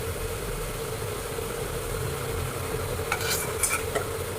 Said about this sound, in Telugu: ఒకసారి బాగా అంతా కలుపుకోండి